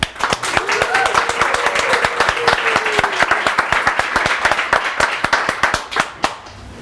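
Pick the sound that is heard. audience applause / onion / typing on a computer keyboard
audience applause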